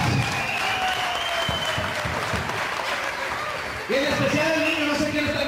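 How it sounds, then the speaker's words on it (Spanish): Crowd applause at a lucha libre wrestling event, a steady wash of clapping and crowd noise with shouts and a voice calling out over it. "Un aplauso para los grandes de la Nueva Paz."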